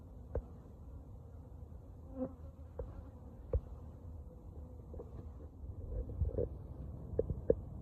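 A low, steady buzz of many bees and wasps up close at a beehive, with occasional louder bumps and knocks punctuating the drone.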